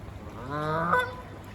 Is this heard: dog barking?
no